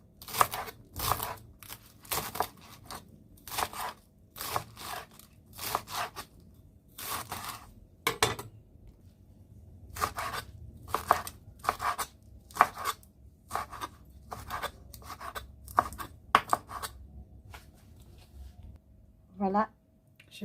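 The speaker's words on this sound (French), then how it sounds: "Je vais couper les épinards" Spinach being chopped into small pieces on a board for a crab and egg spinach soup, a run of crisp, quick blade strikes in bursts with short pauses, close and clear, with no talk over it.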